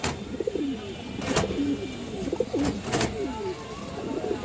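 Soft, repeated cooing of a pair of jira-throated pigeons, with low throaty warbles recurring through the clip, joined by a few brief rustles and fluttering sounds.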